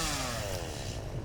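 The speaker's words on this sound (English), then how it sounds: "put the chainsaw there, and fair warning, it is a little bit loud" Chainsaw running in the Satisfactory video game, a steady buzzing engine drone held throughout, fairly loud and continuous with no talk over it.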